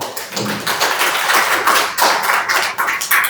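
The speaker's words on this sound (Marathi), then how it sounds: "एकदा जोरदार टाळ्या वाजवू आपण" Students and guests in a college hall at a Mahatma Phule Jayanti lecture clap hard together, a loud, sustained burst of applause close to the microphone, with no talking.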